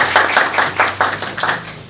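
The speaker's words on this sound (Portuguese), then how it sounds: "Uma salva de palmas para o Diogo" An audience at a magic show claps for a volunteer named Diogo: a short burst of brisk, fairly rhythmic hand claps, close and lively, with no talking over it.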